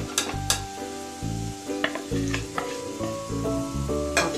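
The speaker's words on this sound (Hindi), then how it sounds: "1 मिनट तक हम इसे मसालों को तेल के साथ भूनेंगे।" Spices sizzle in hot oil with browned onions for a green bean and potato curry, a close steady frying hiss broken by repeated scraping stirs of a spoon in the pan.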